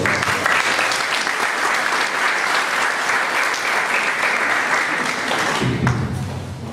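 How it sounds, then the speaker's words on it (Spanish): Dense, loud applause from an audience at an academic law lecture honoring a doctor, sustained for several seconds before thinning out as a voice begins at the end. "Nuevamente fuerte las palmas para el doctor"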